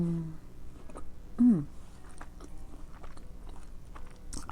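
Someone bites into a peanut caramel candy, giving one sharp crunchy bite followed by soft, close chewing noises, heard alone and fairly quietly.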